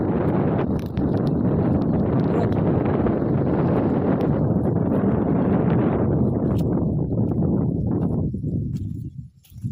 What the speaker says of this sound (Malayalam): നല്ല കാറ്റുള്ള സ്ഥലമാണ്